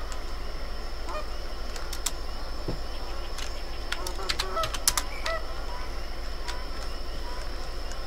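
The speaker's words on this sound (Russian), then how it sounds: "Просто тут где-то летят гуси." Faint, scattered honks from geese passing at a distance over steady outdoor background noise, with a few sharper calls clustered near the middle.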